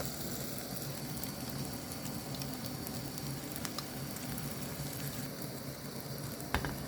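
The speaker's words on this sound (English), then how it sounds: "The oil is hot, guys. It's time for our cabbage mix to go in." Cabbage pancake mix sizzles steadily in hot oil in a pan for a Chinese cabbage pancake, a continuous close crackling hiss with a sharp pop near the end, no talking.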